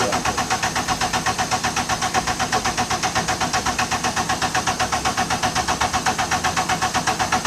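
A K-swapped Toyota MR2 engine runs loud and close with a steady, fast pulsing rhythm and a rough idle throughout, with no voices.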